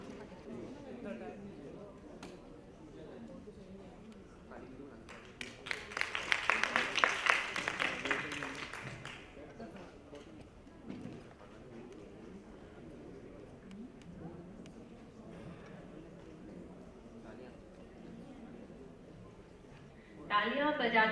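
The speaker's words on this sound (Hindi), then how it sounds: "एक बार आप लोग तालियां बजा दीजिए स्टूडेंट्स की हौसला अफजाई के लिए" An audience at a student education event in Jaipur claps to cheer students on their marks. A burst of applause swells for a few seconds amid ongoing speech, then fades back to the speaker's voice.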